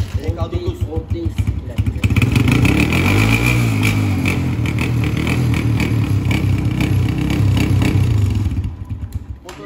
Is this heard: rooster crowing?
no